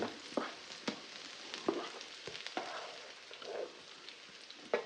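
Carrots and onions frying and browning in a pan: quiet, irregular sizzling with scattered soft crackles and pops close by, no talk.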